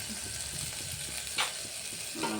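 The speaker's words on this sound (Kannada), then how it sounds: "ಈಗ ಚೆನ್ನಾಗಿ ಫ್ರೈ ಆಗಿದೆ" Soft, steady sizzling of ingredients frying in a pan for avarekalu sambar, a faint continuous crackle with a brief scrape of stirring partway through.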